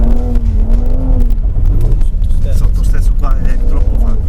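Mercedes-AMG SUV engine working through deep mud, a loud low drone with a rising and falling rev, heard under continuous talk from occupants.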